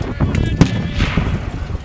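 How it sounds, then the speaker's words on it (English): Sharp bangs and booms of cannon and handgun fire ring out amid a noisy crowd at a Battle of Bosworth reenactment, with one loud crack standing out near the middle. "Replies from the cannons and the handguns from Burgundy that Henry's brought with."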